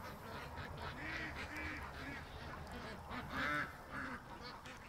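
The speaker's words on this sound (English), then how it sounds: "Oh, she just quacked for us." A female duck out of the water gives a few soft, scattered quacks, fairly faint over a constant outdoor background noise.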